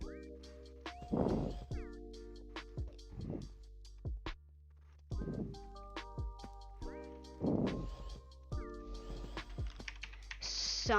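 A cat meows several times during a video game session, its cries mixed with steady computer keyboard typing and clicking, close and moderately loud throughout.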